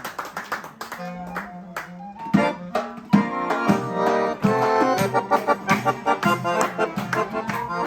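A crowd claps steadily, rising into sustained applause with rhythmic clapping, close and loud.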